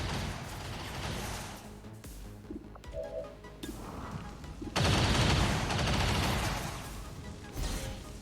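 Sustained burst of walking fire from a soldier's weapon in the turn-based game XCOM 2, a loud dense roar lasting several seconds after quieter scattered combat noise.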